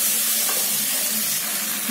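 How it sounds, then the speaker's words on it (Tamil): Tomato sautés in a pan for chicken semiya biryani, giving a brief, close, steady hiss and sizzle with faint stirring and no talking. "நம்ம தக்காளி, இது நல்லா வதக்கலாம்"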